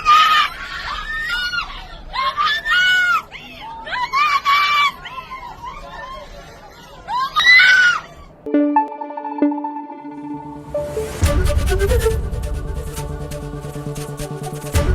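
People on a bus scream and wail in loud, repeated cries after a tanker explosion for about eight seconds, then the sound gives way to electronic tones and music from a TV news broadcast.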